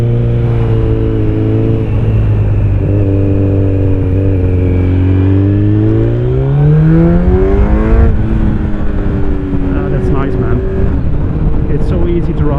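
A Kawasaki Z900 motorcycle fitted with an Akrapovic exhaust rides on the road, its engine note holding then rising as it accelerates out of a corner, loud and close with a wind-rushed background.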